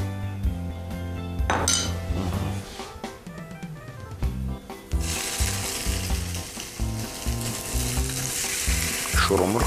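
An oiled chicken breast frying in a pan, a sizzling hiss that swells in the second half, with a few pan and utensil clinks, sitting under prominent tonal background music.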